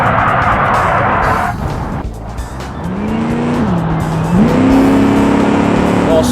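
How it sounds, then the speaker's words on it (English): A land yacht car in the Automation video game brakes hard and corners with loud tire squeal, as its engine note drops and then rises again through the bend. "Here, we need to start braking now."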